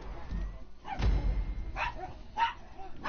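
A puppy barks and yips a few times in a GTA V game session, short sharp calls over low rumbling background noise.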